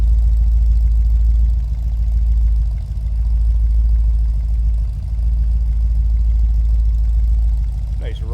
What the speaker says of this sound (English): Nice rumble coming out of that V8.